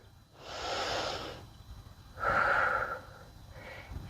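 Slow, deep yoga breaths during a calm flow session: two long airy exhalations close to the mic, the second stronger and slightly whistling, then a short third breath starting, with no talking.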